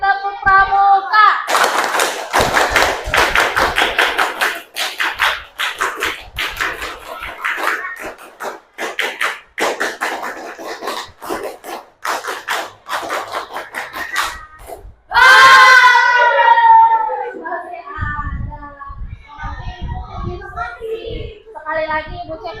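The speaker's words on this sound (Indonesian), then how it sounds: "4 kali tepuk Pramuka." Schoolchildren perform the rhythmic Scout clap (tepuk Pramuka) four times in a classroom, sharp hand claps in quick patterned bursts with young voices and a teacher's voice in between.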